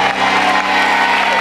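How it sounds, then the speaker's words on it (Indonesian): A studio audience claps and cheers for the group Unity, a loud, dense burst of applause with whoops that fills a short moment without pause. "tepuk tangan dong buat Unity, keren."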